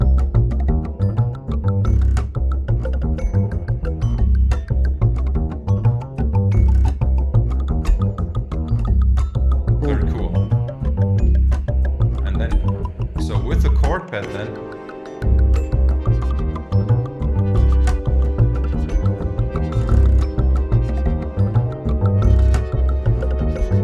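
Double bass part from a music track, a steady pulsing low line played loud and continuous with other instruments layered above, briefly dropping out near the middle before resuming fuller.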